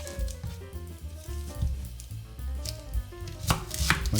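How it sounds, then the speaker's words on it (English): Knife cutting an onion into quarters on a board, producing a few irregular thuds and crisp cuts amid close kitchen clatter, with no talking. "With our onion, we're just basically going to quarter this"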